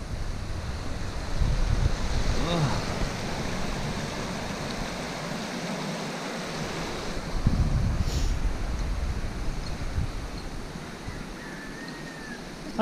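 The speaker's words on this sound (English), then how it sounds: "The river." A river flows steadily near a village in the Yorkshire Dales, a continuous broadband rush of water with wind gusting across the microphone, no voices.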